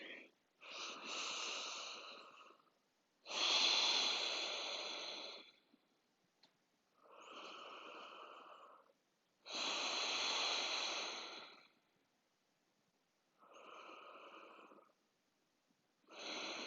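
Slow, deep breaths are drawn in and let out through the nose over cupped hands scented with essential oil, a series of six airy inhales and exhales with pauses between, close and quiet.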